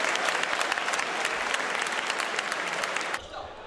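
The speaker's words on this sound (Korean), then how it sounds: "김우민 선수의 힘찬 레이스에 아낌없는 박수와 환호가 쏟아졌습니다" Applause and cheers break out for Kim Woo-min after his powerful 1500 m freestyle race at a national sports festival pool, dense steady clapping from a large crowd that drops away sharply near the end.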